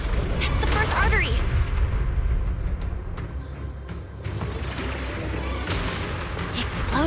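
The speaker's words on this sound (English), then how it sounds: "The explosions are becoming more frequent." Repeated explosions from cocoon blasts in the Zenless Zone Zero video game, loud booms and bursts piling up amid continuous combat noise and rumble, with sharp impacts scattered throughout.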